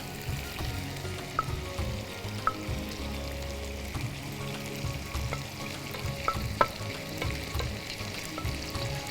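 Chicken sizzles and fries steadily in hot oil in a pan, a continuous crackling hiss with scattered sharper pops and faint stirring clicks, close and fairly loud throughout with no voices.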